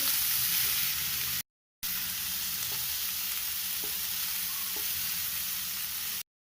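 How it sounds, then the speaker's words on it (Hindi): Shredded chicken sautéing over a high flame sizzles and fries steadily, a loud continuous hiss with faint stirring taps, broken by two short gaps of silence. "श्रेडेड जो चिकन है ये डाल देंगे हम, और हल्के से इसको सौते करेंगे।"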